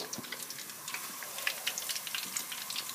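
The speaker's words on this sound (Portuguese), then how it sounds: "Ele tá fritando o alho." Steady crackling sizzle of garlic frying in hot oil, with scattered tiny pops and spits over a constant hiss, close and fairly quiet.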